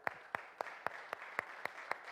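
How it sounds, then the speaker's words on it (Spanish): A few sparse, rhythmic claps in a church service, evenly spaced single hand claps at a steady beat, faint and somewhat distant in a quiet room. "le des aplauso fuerte a Dios"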